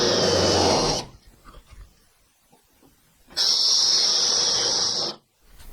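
A Roto-Broach cutter bit drills out spot welds in the rear deck panel of a Triumph TR4, coming as two loud, steady, hissing bursts of about a second and two seconds, separated by a quieter gap.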